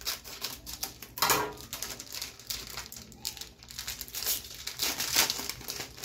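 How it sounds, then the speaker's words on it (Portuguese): Plastic packaging around a pack of card sleeves for a Digimon card game is cut open with scissors, a steady run of crinkling, snipping and rustling handling noise, fairly close and without talk. "Eu vou abrir aqui o azul, só pegar uma tesoura aqui para agilizar."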